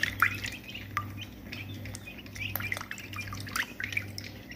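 Week-old broiler chicks in a coop give scattered high cheeps and peeps over a steady low hum, close and fairly quiet, no talking.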